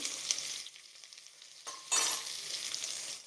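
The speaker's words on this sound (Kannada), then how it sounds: "ಬೆಳ್ಳುಳ್ಳಿ ತೊಗೊಂಡಿದ್ದೀನಿ ಒಂದು ಸ್ವಲ್ಪ ಜಜ್ಜಿ ಆ್ಯಡ್ ಮಾಡ್ಕೋತೀನಿ" Lightly crushed garlic hits hot oil for an amaranth stem saaru, a soft sizzle that drops away, then a louder burst of frying with stirring that keeps hissing steadily up close.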